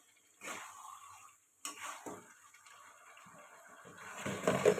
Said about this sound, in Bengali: আর একটু নেড়ে চেড়ে দেবো।